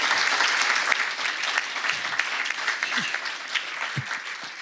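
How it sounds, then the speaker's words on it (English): An audience at a community group meeting gives a sustained round of applause, dense and steady, then slowly thinning with a few scattered claps near the end. "I think we should give Kim Vicario a big round of applause"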